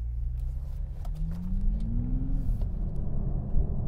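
New Toyota Supra sports car accelerating, a deep engine rumble from inside the cabin whose pitch climbs steadily then drops at a shift, continuous and fairly loud with road noise beneath.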